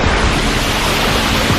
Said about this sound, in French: La cascade est juste derrière nous.